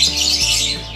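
A pleci (white-eye) songbird calls in rapid, high, chattering chirps over about a second, fairly close and continuous, with no voices.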